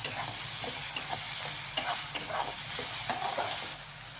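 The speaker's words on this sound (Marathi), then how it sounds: "चांगलं परतून घ्यायचं आहे तेलामध्ये।" Mixed legumes are sautéed in oil, giving a constant close sizzle with soft, rhythmic stirring scrapes throughout that ease slightly near the end.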